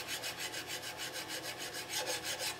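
A file rasps back and forth across the brass butt plate of a colonial gun kit, about a dozen even, rhythmic strokes in quick succession, close and clear with no talking.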